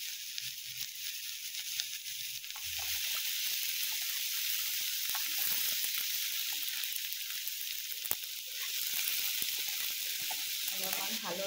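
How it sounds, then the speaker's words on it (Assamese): Ginger, garlic and chili frying in a pan, a steady close sizzle that swells after a quieter start, with occasional stirring clatter and no talk. "এইখিনি অকণমান মই ৰঙচুৱাকৈ ফ্ৰাই কৰি লওঁ"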